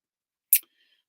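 A single quick, crisp snip from scissors cutting out paper pieces, close by and alone in near silence.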